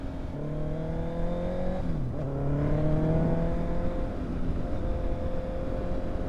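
A Honda CBR motorcycle idling and revving on a night ride, its exhaust giving a steady engine drone with rising and falling pitch, close and loud throughout, with no distinct pops standing out.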